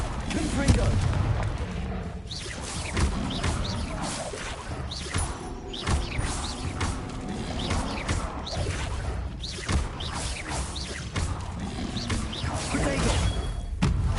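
Repeated Confringo explosive spells cast in a Hogwarts video game, each a sharp whoosh ending in a blast, with several crashes and booms following one another quickly in a busy, loud fight, and voices speaking now and then.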